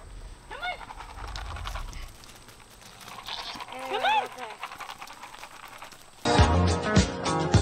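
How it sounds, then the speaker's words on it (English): Goats bleat on a homestead as they are moved, a few short nearby calls mixed with quiet handling noise, before a sudden loud burst of other sound at the end. "We ready, mama, we're moving goats."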